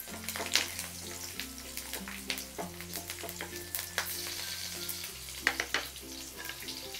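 Cumin, green chili, ginger and garlic sizzle in a hot pan while being stirred, with soft crackling and scraping under a prominent background of steady music with sustained bass notes.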